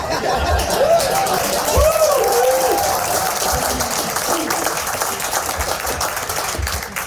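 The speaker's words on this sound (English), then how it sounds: "Clap whenever you want to, yell and scream, wave your flags." Crowd at an outdoor Home for Our Troops event honoring an Air Force master sergeant, clapping and cheering steadily throughout, with chatter, laughter and whistle-like shouts mixed in.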